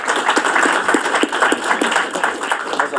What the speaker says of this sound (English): Round of applause for all of them for joining today